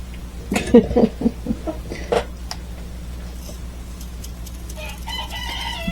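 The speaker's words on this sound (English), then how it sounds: "So you'll hear the chicken conversation." Backyard chickens cluck and chatter back and forth close by, with a rooster crowing early on and softer calls continuing over a steady low hum.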